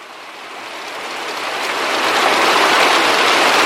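Heavy rain in a summer downpour, a loud, dense roar of water pounding a roof and ground, swelling steadily louder over a few seconds with no distinct thunderclaps and no talking.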